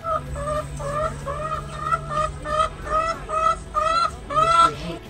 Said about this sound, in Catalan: La gallina cloqueja i el gall fa un cant per fer veure que ell mana